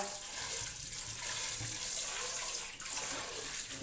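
Water runs steadily from a tap while grapes are washed in salt water, a close, continuous splashing rush with a brief dip near the end and no voices.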